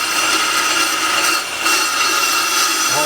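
Pro Cut PFM 9.0 on-car brake lathe cutting across the face of a brake rotor, a steady loud close whirring hiss of the cut, continuous with no talk.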